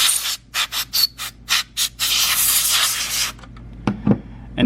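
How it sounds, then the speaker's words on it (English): Short bursts of canned air hiss into a sewing machine to blow out lint, about six quick sprays followed by a longer continuous blast, then a few light taps and handling sounds. "I like to spray from this angle out."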